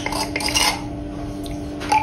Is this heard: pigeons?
no